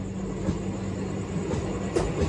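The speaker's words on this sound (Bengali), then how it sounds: "এই পাশ থেকে একটা লোকাল ট্রেন চলে যাচ্ছে" A local Odisha train passing near Khurda Road Junction, a steady low rumble with faint rhythmic clatter of wheels on rails, continuous and moderately loud throughout.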